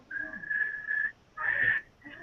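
Someone tries to whistle underwater but produces only breathy, wavering tones in a few short bursts, more air than clear pitch.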